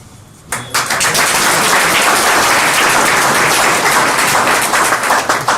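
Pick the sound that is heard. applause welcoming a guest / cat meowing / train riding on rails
applause welcoming a guest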